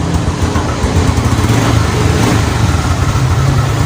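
A kick-started motorcycle engine runs loud and close at a steady idle, its low throbbing pulse unbroken throughout with no voices.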